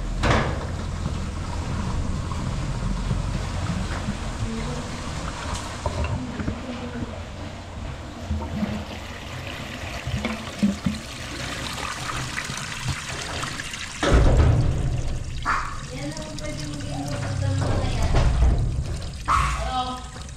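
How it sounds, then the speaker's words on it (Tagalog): Water splashes and pours in bursts, loudest partway through, over a steady background rumble and some movement noise. "Bubuhusan natin ng tubig para lumabas."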